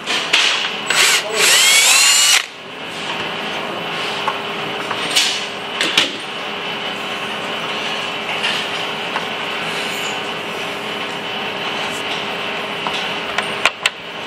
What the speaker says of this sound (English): Just drill out the hole in the fender.